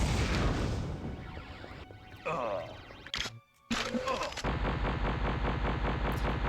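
An Ion titan in Titanfall 2 detonates, sending out dense, loud blasts and heavy gunfire that break off abruptly midway, fall nearly silent, then surge back as continuous rumbling explosions.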